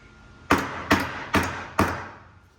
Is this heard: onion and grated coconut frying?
no